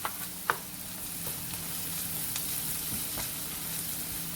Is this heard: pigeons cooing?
no